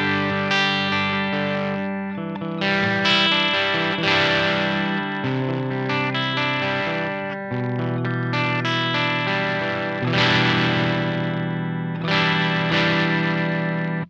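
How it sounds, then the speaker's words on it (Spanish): Electric guitar played through an MXR Mini Fuzz Face pedal with the guitar's volume knob turned down to about half, giving sustained, fuzzy strummed chords that ring out loudly and continuously with no talking. "Ahí tengo el potenciómetro de volumen de la guitarra a la mitad y mirá el sonido lindo que tenés."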